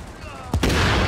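A single loud, close shotgun blast in The Division, cracking sharply midway through after a quieter stretch and followed by a sustained roar of gunfire and echo.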